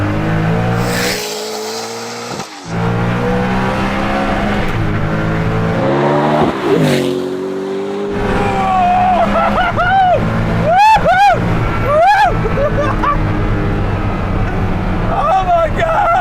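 Hennessey Venom F5 hypercar pulling hard in a second-gear roll-on, its engine note climbing loudly and continuously with rising harmonics, wind and road roar building, and a voice exclaiming over the sound.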